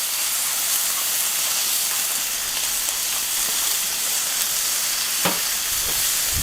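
Steak meat sizzles steadily and loudly in a hot pan for a cheesesteak sandwich, a constant close frying hiss with a couple of faint pops and no talking.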